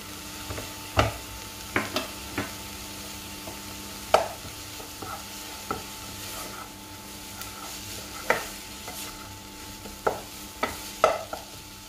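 Onion sautéing in a pan for moussaka, a soft continuous sizzle broken by scattered clinks and scrapes of a utensil against the pan, close and moderate, with no talking.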